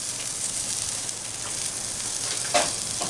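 Burgers sizzle and flare on a spinning grill grate, a steady hissing crackle with a short louder pop near the end, close and alone without talk.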